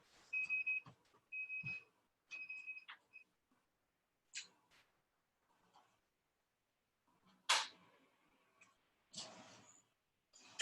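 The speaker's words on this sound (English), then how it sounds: "something's beeping in the kitchen" A kitchen appliance beeps in a home, giving three short tonal beeps early on, then scattered clicks and knocks, faint and distant against a quiet background.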